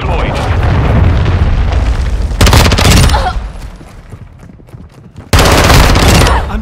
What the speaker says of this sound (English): Friendly cruise missile deployed.